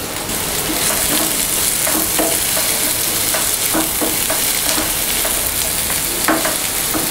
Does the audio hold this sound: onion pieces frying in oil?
yes